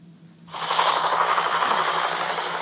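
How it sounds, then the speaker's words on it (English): A helicopter in a scene from the film Jurassic Park III, its loud, steady rotor whir and engine roar rising in after half a second and holding close. "That's the helicopter."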